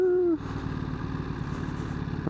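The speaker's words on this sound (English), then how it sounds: "Got a little supermoto action out here today." A supermoto motorcycle runs nearby outdoors: a steady, moderately loud engine rumble with quick pulsing firing beats, heard alone after a brief high whine at the start.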